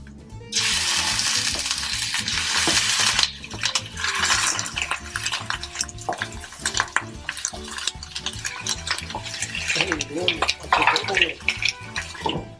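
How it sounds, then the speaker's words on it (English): Hot oil sizzles loudly as chicken fries, a broad hiss that surges early, then settles into steady crackling and popping, with some clattering and a voice speaking briefly. "So the oil starts sizzling."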